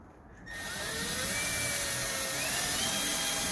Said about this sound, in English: A little tool that cleans out the end of the threads.